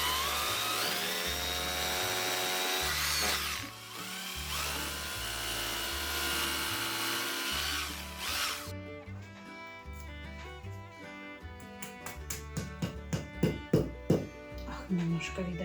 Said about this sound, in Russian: Так, все, сверливаем новые отверстия.